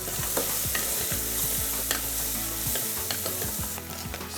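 Vegetables sizzle steadily in a pot while a utensil stirs and scrapes at irregular moments, close up and without speech.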